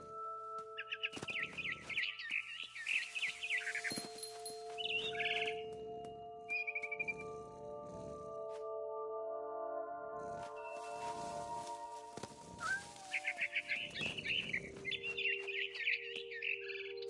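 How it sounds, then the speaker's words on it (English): Barn swallow in the game What Remains of Edith Finch, giving repeated bright chirps and twitters in short bursts, fairly close and clear against a steady low tonal background. "Then I heard chirping outside my window. It was a barn swallow going back to her nest."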